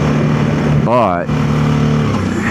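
A motorcycle riding through snow in Minnesota, its engine droning steadily, with a brief rising whine as it shifts up into second gear before settling back to a constant hum.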